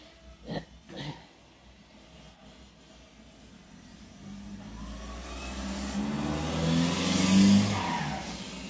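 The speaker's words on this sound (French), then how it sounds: "Vous voyez comment ça roule ici dans le quartier?" A car speeds through a residential neighbourhood, its engine swelling from far to near and growing loud as it accelerates past, after a couple of sharp knocks at the start; no voices.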